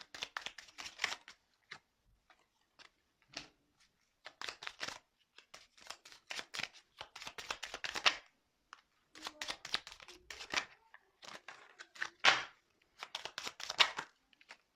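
A deck of tarot cards riffled and shuffled in repeated quick bursts of crisp, close flapping and riffling, separated by short quiet pauses and a few lighter card slides, with no talk.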